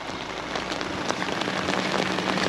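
Steady rain patters densely at a deep-mountain campsite beside an abandoned building, a close, continuous hiss of drops falling on surfaces with no voices.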